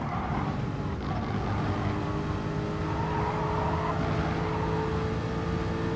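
Race car engine in Gran Turismo 7 droning steadily and close for several seconds, a continuous motor hum with a slight rise in pitch as it accelerates, no voices over it.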